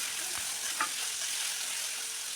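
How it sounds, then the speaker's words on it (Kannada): Onions and chopped green chillies fry in oil after mustard seeds have popped, giving a steady, even hiss that fills the clip with one faint stir or pop partway through; no one speaks. "ಸಾಸಿವೆ ಅದು ಸಿಡಿದ ಮೇಲೆ ಈರುಳ್ಳಿ, ಹಚ್ಚಿಟ್ಕೊಂಡಿರೋ ಹಸಿರು ಮೆಣಸಿನ್ಕಾಯಿನ ಸೇರಿಸ್ಕೊಂಡು ಸ್ವಲ್ಪ ಫ್ರೈ ಮಾಡ್ಕೊಳ್ತಾ ಇದ್ದೀನಿ"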